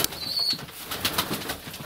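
Pigeons outdoors in winter flap their wings in soft, repeated bursts, with a brief high chirp near the start and faint cooing, close by and with no talk.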